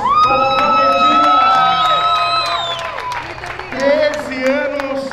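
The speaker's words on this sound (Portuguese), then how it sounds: "Salve de palmas para a Argentina!" A crowd at a drag racing event cheers and whoops loudly, with shouting, high-pitched voices and some clapping mixed in, rising and falling in waves.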